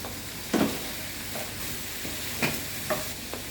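Fish fillet sautéing in a pan as celery leaves go in, giving a low steady sizzle broken by a few sharp clatters and scrapes of stirring, close and quiet.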